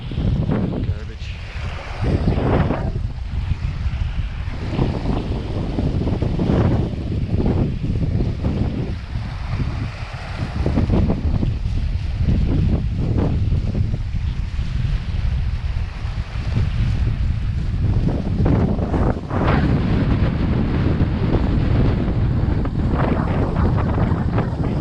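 Wind blowing hard on a beach, a constant heavy roar and buffeting against the microphone that runs throughout, with occasional voice sounds underneath.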